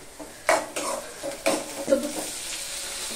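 Tomatoes dropped into a frying pan, a few close stirring scrapes and clanks of utensil against pan over a low sizzle, short and unaccompanied by speech.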